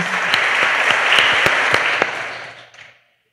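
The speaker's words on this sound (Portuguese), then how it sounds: "E agora dá uma salva de palmas para ela, bem forte." A congregation applauds inside the São Pedro Cathedral during a Mass, a dense burst of clapping, loud and close, that fades out after about three seconds.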